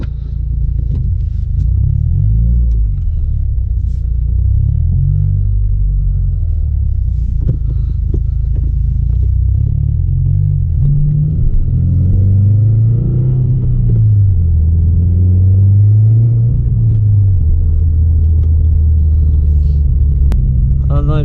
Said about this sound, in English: this is how it looks to ride a 2016 Subaru WRX